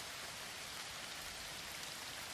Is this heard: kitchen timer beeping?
no